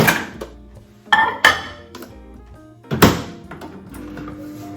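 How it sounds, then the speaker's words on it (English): A dish is put into a microwave in a home kitchen, with a series of sharp knocks, clinks and a door clunk spread across a few seconds, fairly close. "I'm just gonna pop this in the microwave."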